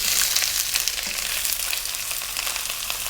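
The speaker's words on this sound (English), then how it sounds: "We're going to drop in 1 cup of the onions." A cup of onions drops into about four tablespoons of very hot olive oil for a chilli con carne shepherd's pie, giving a loud, dense, continuous crackling sizzle close to the pan, with no voices.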